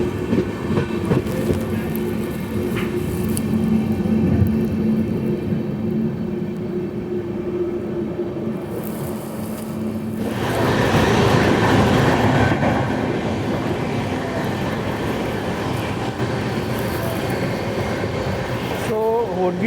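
Shirdi Mysuru Express running on rails, a steady loud rumble of wheels and carriages with rhythmic clatter, swelling louder around the middle and continuing throughout.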